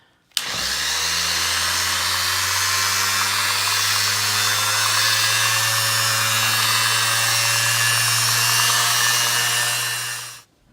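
A small inexpensive Harbor Freight power sander runs continuously for about ten seconds on an epoxy simulated-concrete table top with 1000 grit sandpaper, a loud steady motor whine with a gritty hiss, starting and stopping abruptly.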